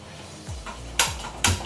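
A metal kadai set down on a home kitchen stove while fish curry is cooked: two sharp, ringing clanks a moment apart, close and loud, after a few quiet soft knocks.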